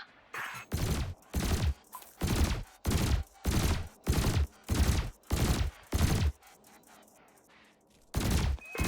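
Ship weapons in Elite Dangerous fire at canisters in a training run: about a dozen loud, evenly spaced broadband blasts in rapid succession, a brief pause, then one more burst.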